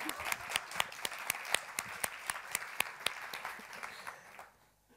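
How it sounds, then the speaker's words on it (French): Audience applause at a science-communication contest event, steady clapping from a crowd with sharp individual claps standing out, fading away toward the end with no talk over it. "Ah, on avait envie d'applaudir Véronique Dazen apparemment"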